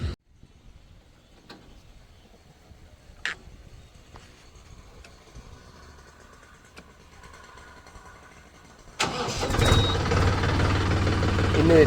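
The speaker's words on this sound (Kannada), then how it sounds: "Mahendra ಸೌಂಡೇ sound friends" Mahindra Yuvo Tech Plus 405 DI tractor engine: near-silence with a few faint clicks, then a loud diesel roar bursts in close by and holds steady to the end.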